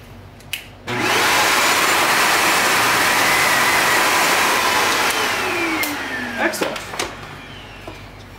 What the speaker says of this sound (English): Now we're just going to make sure the machine has power after I've been in there and messed around.